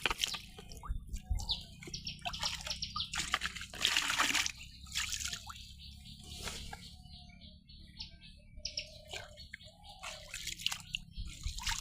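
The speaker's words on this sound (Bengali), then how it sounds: "আমি চুলাটা ধুয়ে নিয়ে যাই পুকুরে পানি দিয়ে" A clay village stove is washed with pond water outdoors, giving quiet irregular drips, splashes and trickles, with faint birds in the background.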